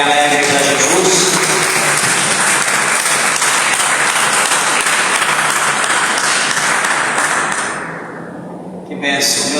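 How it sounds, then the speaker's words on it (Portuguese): A church congregation claps joyfully at an evening service, loud dense applause sustained for several seconds, then fading and cutting off near the end. "Quem pode dar uma salva de palmas bem alegre para Jesus?"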